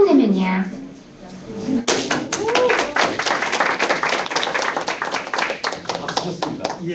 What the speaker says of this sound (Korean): 박수 쳤습니다.